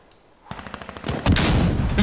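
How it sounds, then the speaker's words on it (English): Rapid gunfire from the Insurgency Sandstorm video game bursts in after a brief quiet lull, a fast run of close, punchy shots that builds into a louder, denser volley toward the end. "The sound of gunfire."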